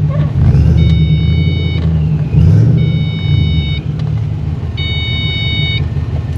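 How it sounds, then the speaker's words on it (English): A car idles with a steady, loud low rumble after something broke with a loud bang, while three spaced bursts of high electronic warning chimes ring over it; no talking. "And it's idling."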